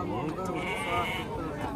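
Sheep bleat at a livestock market in Turtkul, with a drawn-out nearby bleat standing out over busy crowd chatter and people talking throughout.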